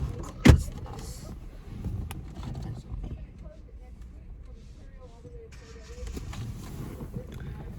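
A car power window closing: a thump at the start, then a low motor whir running for several seconds under wind and background noise, while a person talks nearby.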